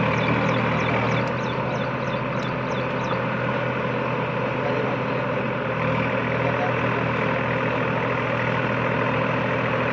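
Tractor engine idling at a farm machinery demo, a steady low droning rumble held at an even level for the whole stretch, with faint chirps and a voice in the background.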